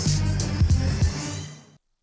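Mid-game mission-complete music from Grand Theft Auto IV, a loud, full musical cue with rhythmic low-end hits and bright upper layers that fades out and ends in silence partway through.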